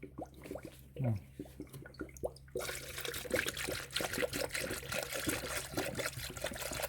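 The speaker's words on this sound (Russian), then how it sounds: "То есть налил полную воронку, кран открыл, она туда вся ушла." Transmission fluid for a Toyota Voxy trickles and pours through a funnel fitted with a valve, first in faint dribbles with clicks, then a steady louder gushing stream.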